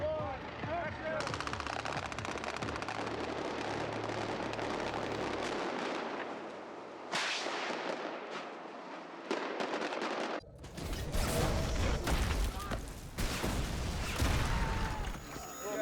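Special-effects missile explosion blowing out windows on a film set, heard as loud crackling bursts and rattling debris, with a lull in the middle before a second harsh blast and scattering crash near the end.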